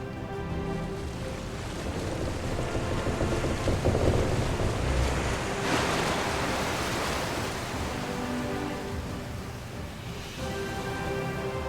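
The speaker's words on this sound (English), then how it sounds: "Summon a barrier of waves." A wave barrier summoned in Kingdom Hearts III, a loud, continuous rushing surge of water with a brighter splash midway, heard alone.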